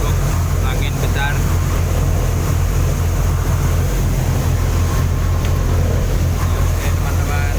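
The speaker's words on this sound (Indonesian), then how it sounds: "Wah, cuacanya agak buruk, angin besar." Strong wind buffets the microphone on a motorboat heading to Batam Center, with a steady low engine rumble and water rush running loud and unbroken throughout.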